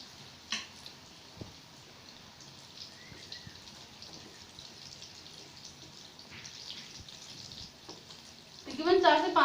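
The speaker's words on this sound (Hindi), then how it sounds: "ये कोफ्ते हमने इस मैदे में डिप करके एक एक करके इसको डालते जाएंगे। और इसको हम फ्राई कर लेंगे।" Chana dal koftas coated in maida batter drop into hot oil, giving a sudden bright sizzle at the very end after a long stretch of faint kitchen ambience and light clicks.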